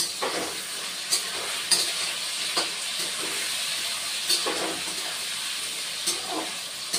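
Vegetables frying in oil with a little turmeric in a Bengali kitchen, a steady sizzle with occasional sharper crackles and spits.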